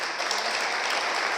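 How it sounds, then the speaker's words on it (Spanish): Audience applause for a curator and guest lecturer at the close of an evening masterclass on a Mexican painter, a dense, steady wash of many hands clapping at even loudness throughout, with no talk over it. "nada más es cuestión de volverla a aplaudir a nuestra increíble curadora y"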